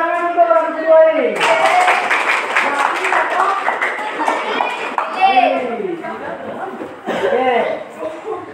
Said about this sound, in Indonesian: Tepuk tangan untuk orang kedua ini